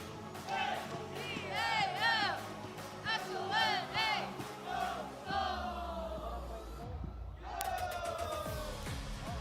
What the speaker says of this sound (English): let's hear one loud cheer from the Adamson audio